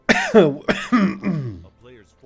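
Several hard, close coughs in quick succession, each a short burst, trailing into a throaty, voiced tail and a faint final catch.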